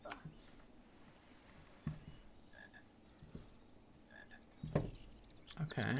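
Frog croaking inside an old Harry Potter video game, a few short croaks spaced through the stretch over a faint ambient game background, with a louder burst near the end.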